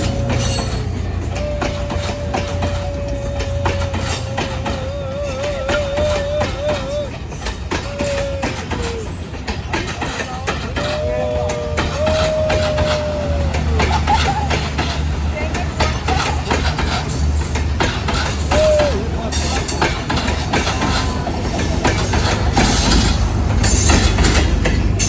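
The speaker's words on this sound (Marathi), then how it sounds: "मस्तपैकी ट्रेन जाते इकडे." A train rolling past, a continuous low rumble with rattling wheels and some squeal, fairly close, with people talking over it throughout.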